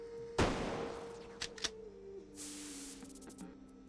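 Burst of gunfire from specialized bullets in Reverse 1999, a sharp loud shot followed by a few quicker snaps and a swishing spray over a steady humming tone.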